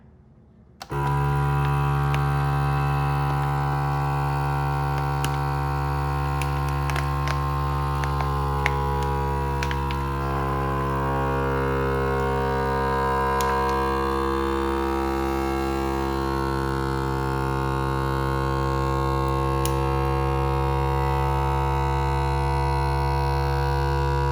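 A Cabela's 12-inch vacuum sealer on its auto-vacuum cycle switches on and holds a steady, loud motor hum for over twenty seconds. The droning tone is unbroken and there is no speech.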